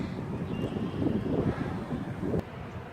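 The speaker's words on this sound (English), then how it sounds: "We got some good wind blowing here today." Steady wind in a park rushes across the microphone, rumbling throughout with gusts, and a brief knock near the end.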